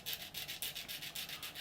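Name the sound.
sanding plastic model part with a sanding stick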